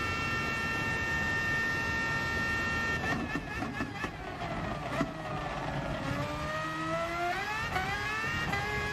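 A race car roars past at high speed, its engine note rising and then sweeping downward in pitch as it pulls away. The sound is loud and steady throughout, with no talk.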